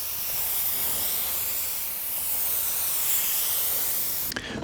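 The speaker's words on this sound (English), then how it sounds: "I'm going to start spraying this heavy and slow." Spray gun laying heavy, slow clear coat on a car at about 28 psi with full fluid volume, a steady, loud, unbroken hiss that ends with a small click.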